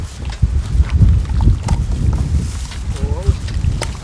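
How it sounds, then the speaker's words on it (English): Wind blows outdoors, buffeting the microphone with low rumbling gusts throughout, loud and close, while a voice and other people talk underneath. "The wind. The breeze, yeah."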